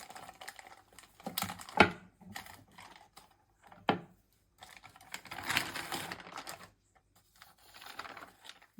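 A chapati maker presses folded dough for sweet kadubu, giving a few quiet, sharp mechanical clacks and soft scraping handling noises in a fairly quiet kitchen.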